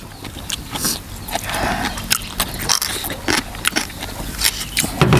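Crisp, crunchy chewing of a raw vegetable salad with cooked shrimp, close to the ear, with repeated sharp bites and crackles in an uneven rhythm.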